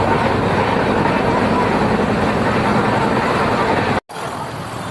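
A running passenger train gives a loud, steady rumble and rushing noise throughout, broken by a brief cut near the end.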